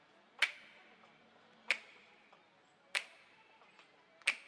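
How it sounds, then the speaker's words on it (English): Four crisp recorded finger snaps come at an even, slow pace, each trailing into a reverb tail and treated with distortion and vibe effects, quiet overall and with nothing else in the background. "And I also have these 2 tracks of real snaps that I recorded."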